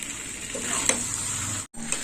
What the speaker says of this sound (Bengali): পোস্ত বাটাটা দেওয়ার পরে আর একটু কষে নেবো